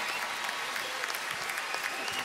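Steady applause from an arena crowd at a 2017 women's basketball championship trophy ceremony in Dallas, a dense even patter of many hands clapping without pause.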